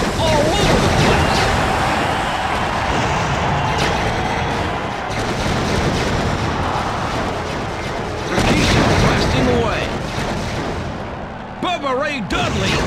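Weapon fire and booming explosions from vehicle combat in the WWE Crush Hour video game come in loud, repeated blasts and bursts. An excited voice commentates over much of the action.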